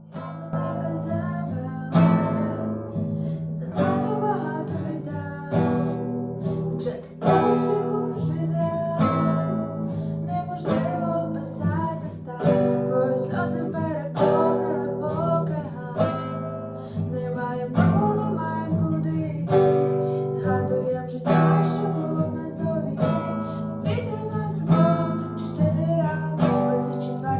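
An acoustic guitar plays a song alone, strummed and picked chords with a steady rhythm continuing throughout, no voice.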